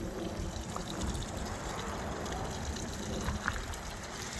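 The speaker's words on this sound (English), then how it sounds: "Right here is an artesian well." Steady water from an artesian well rising under ground pressure in a park, a continuous close trickling and gushing wash with no talking.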